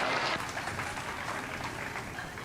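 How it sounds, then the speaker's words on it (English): Spectators at the Wayne County Junior Fair show arena give the young livestock exhibitors a short, steady round of applause. The clapping is moderately loud, sounds roomy and lasts a couple of seconds. "Let's give these kids a good round of applause."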